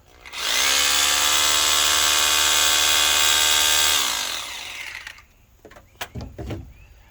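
A 1,020-watt power drill whirs loudly at a steady pitch for about four seconds, then winds down, followed by a few quiet clicks and handling knocks.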